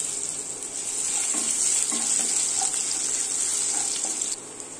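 Crushed garlic dropped into hot oil already crackling with mustard seeds and urad dal, giving a steady close sizzle with light stirring clicks and scrapes throughout, no voices.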